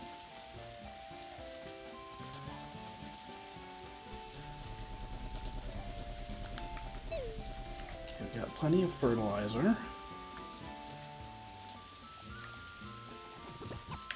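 Steady rain patters in the farming game Story of Seasons: A Wonderful Life, a soft continuous hiss under gentle background music, with a person talking over it.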